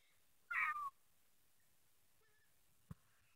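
A thin, strained meow from a skinny cat, one short faint cry standing alone in a quiet room, with a small soft tap following a couple of seconds later.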